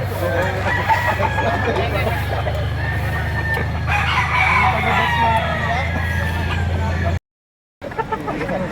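A rooster crows amid a busy, noisy outdoor scene in Lipa, Batangas, with steady low rumble and background chatter, then a brief dropout before the din resumes.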